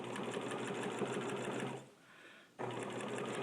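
A sewing machine runs in steady, fast stitching bursts while quilting leaf stems with a straight stitch, loud and close, pausing briefly before starting up again.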